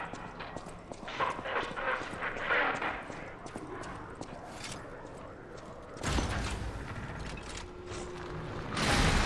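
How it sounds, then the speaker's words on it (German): A large door mechanism grinds and clanks open in the video game Lies of P, with creaking, metallic knocks and a louder rumbling surge partway through, close and prominent. "Große Türen in solchen Spielen."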